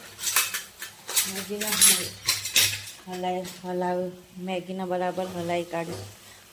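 Maggi noodles stirred in a pan with salt added, a spoon scraping and clinking against the metal in quick repeated strokes, loud and close, while a voice talks over much of it.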